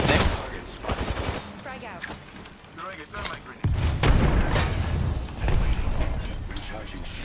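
Gunfire in the Apex Legends battle royale video game, with bursts of shots and booming impacts over a continuous rumble, while a player talks throughout.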